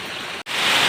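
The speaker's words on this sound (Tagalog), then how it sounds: "Lakas ng ulan mga idol" Heavy rain pours down, heard from inside a house as a dense, loud, steady hiss, broken by a split-second gap.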